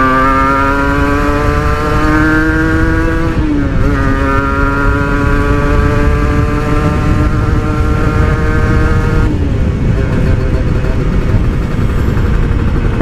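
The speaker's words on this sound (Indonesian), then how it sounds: "Bentar, ngegas bentar." A Kawasaki Ninja R motorcycle engine revs steadily and loudly, its pitch dipping briefly and climbing again, running continuously close by with no voices.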